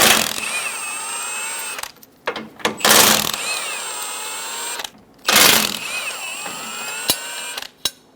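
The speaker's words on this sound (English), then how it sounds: "Using a 15mm socket, remove the 3 bolts for the bumper bracket." A power tool with a 15mm socket whirs in three bursts as it backs out bumper bracket bolts on a Chevrolet Silverado 1500 pickup, each loud run separated by brief pauses and clicks.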